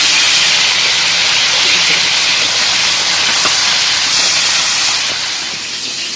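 Potatoes frying in a pan with salt and turmeric, a loud, steady sizzling hiss that runs throughout and eases off slightly near the end.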